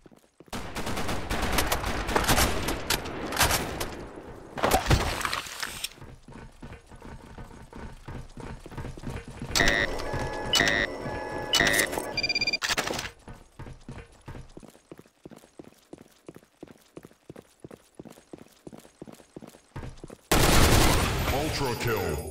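Video game gunfire with bursts of rapid automatic fire and a long run of regular single shots, loud and close, broken by short gaps.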